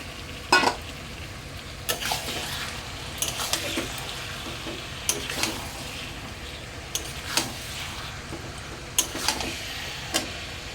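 Chicken sizzling in a frying pan while chicken kosha is cooked: a steady low hiss of frying with sharp clinks and scrapes of a spoon or utensil recurring every second or two.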